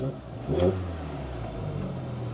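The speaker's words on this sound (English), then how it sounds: "The engine sounds quite sweet." A used convertible with 102,000 miles runs smoothly with a steady mid-pitched engine note and a brief swell of revving near the start, no talk over it.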